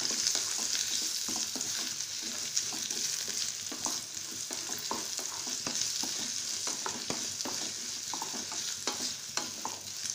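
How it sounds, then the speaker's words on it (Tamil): Onions frying in a pan for kuzhi paniyaram, a steady sizzle broken by repeated scraping and stirring clicks from the spoon, close and moderately loud, with no talking. "இது வந்து நல்லா முறுமுறுன்னு வறுத்துக்கோங்க, கருகக்கூடாது."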